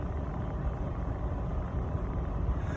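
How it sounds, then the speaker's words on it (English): Car cooling fan running, a low steady rumbling whir that holds even and continuous throughout, with no other sounds or voices standing out. "the sound of the fan of the car is what I'm most paying attention to."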